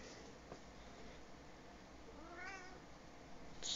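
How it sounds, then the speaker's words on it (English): Old cat meows faintly in the background during a game session, one soft wavering cry midway through, barely above steady low room noise. "the old cat trying to make some noise here"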